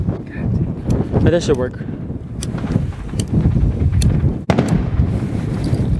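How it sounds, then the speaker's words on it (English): Strong wind buffets a microphone outdoors on New Year's Eve, a constant low rumble with gusty surges. Voices talk over it and a few sharp pops and cracks cut through. "There's a lot of wind, that's why."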